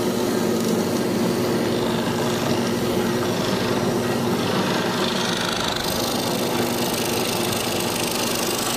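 A drill press fitted with a Rox Wood 0038 square mortising chisel set grinds steadily into wood, making a loud, continuous mechanical rumble and whir with no break throughout.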